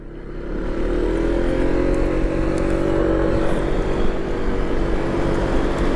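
A scooter's small engine drones steadily as it climbs a mountain road, a continuous close hum that holds at a constant level with no speech.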